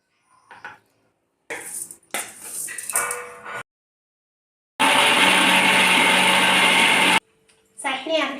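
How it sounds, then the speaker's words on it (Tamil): A mixer grinder jar blends ivy gourd leaves into chutney, a loud, dense roar lasting a couple of seconds, set between bursts of talk and clattering kitchen handling. "இப்போ இதை மிக்சி ஜாரில் சேர்த்து அரைச்சா கோவக்கீரை சட்னி ரெடி ஆயிடும்"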